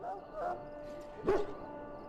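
A dog in the video game Dragon Age Origins gives a couple of short whimpering yips, and a voice speaks over game sounds.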